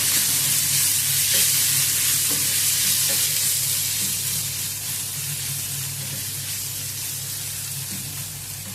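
Spiced masala with coriander powder sizzles and fries in a pan for a dried fish curry, a steady close hiss with occasional soft stirring scrapes, gradually easing slightly in loudness.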